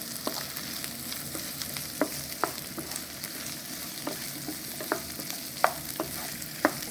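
Sliced white onion stir-frying in a pan for a Chinese-style broccoli in garlic sauce, a soft continuous sizzle broken by regular sharp scrapes and taps of a spatula.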